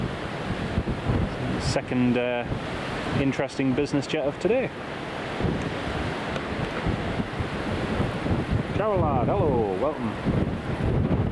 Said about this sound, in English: It's very windy over by the airport.